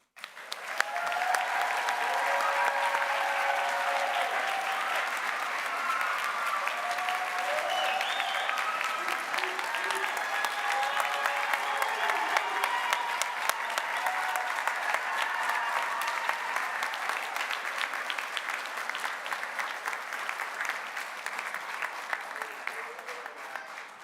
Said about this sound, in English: Graduates, staff, faculty, please recognize our friends and family with some applause.